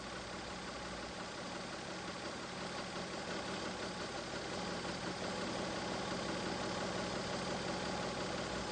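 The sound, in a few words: Mazda MX-3 engine idling during idle speed adjustment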